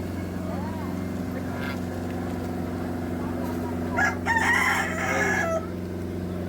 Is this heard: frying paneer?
no